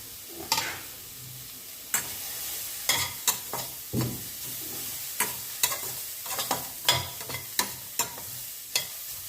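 Cauliflower, carrot, green chilli, cabbage, peas and coriander leaves sautéing in a pan with salt, a low sizzle punctuated by frequent rhythmic taps and scrapes of a spatula, close and distinct with no voices.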